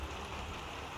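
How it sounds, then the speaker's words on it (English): Steady rain falling just outside an open door, a continuous soft broadband hiss with a low rumble underneath, filling the whole moment with no voices. "it's raining right now, and we have the door open"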